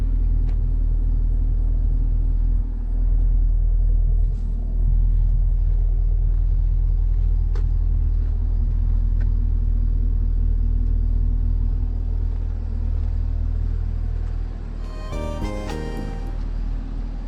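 A car's engine idles in a steady, loud low rumble that continues almost unchanged, then ends in a short burst of clicking near the close.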